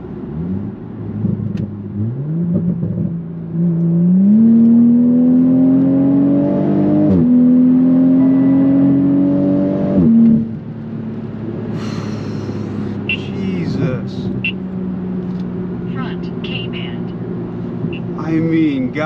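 A car driven in Sport mode accelerates hard, its engine note climbing through rising pitch sweeps with gear changes, loud and close from inside the cabin, easing off near the end.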